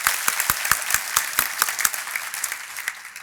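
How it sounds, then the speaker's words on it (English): Guests at a morning chamber breakfast event give a round of applause, a fairly small crowd with individual sharp claps clearly distinguishable over a softer clapping bed, gradually thinning out toward the end. "a big round of applause for the folks who are with us this morning"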